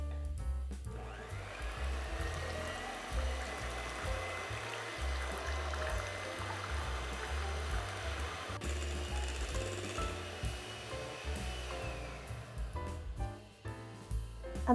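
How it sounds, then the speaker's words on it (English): An electric mixer whisks sweetened condensed milk in a bowl until thick, for a no-churn strawberry ice cream, giving a steady close whirring drone with a slight watery swish that runs without a break and without talk. "now I'm going to whisk this until it's nice and thick."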